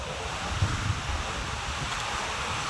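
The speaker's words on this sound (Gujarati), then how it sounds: "આજનો પવન તો ખરેખરનો છે" Strong wind at the seashore roars steadily into the microphone as a constant, loud, broadband buffeting, with no voices heard.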